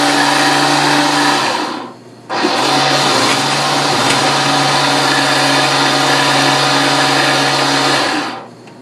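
A blender whirring through an iced drink, a loud close motor drone that cuts out briefly around two seconds, restarts for a long steady run, then stops.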